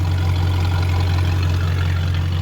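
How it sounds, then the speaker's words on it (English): BMW E39 540i M-Sport V8 idling with a suspected exhaust leak, a steady low droning hum with constant engine noise, close and even, no revs or speech. "You can hear it sounds like an exhaust leak."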